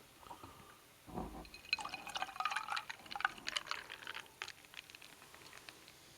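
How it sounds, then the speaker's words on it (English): Bourbon and Coke poured over ice in a glass, with soft clinks of ice, trickling liquid and faint fizzing, quiet and close in an otherwise hushed room. "We're getting the full ASMR of pouring a bourbon and Coke."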